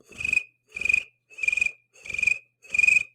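A person mimics a cricket with their voice, producing five evenly spaced, shrill trilling chirps, each about a third of a second long, with short silences between them. The chirps are close and clear, with no other sound.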